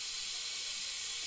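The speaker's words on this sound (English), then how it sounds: "the pressure cooker is laying on steam" Steam venting from a pressure cooker makes a steady, even hiss that holds for about a second on its own, with no voices.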